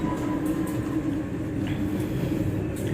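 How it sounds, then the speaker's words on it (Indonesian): A railway locomotive shunting at a station in Indonesia, moving a train back and forth into a goods warehouse, giving a steady low engine rumble and rolling drone with faint clanks, continuous and fairly close. "Jadi lokomotif dinasnya yang langsir."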